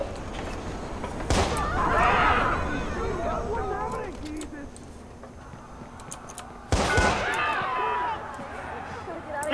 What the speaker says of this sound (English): Some nut job shooting up the place.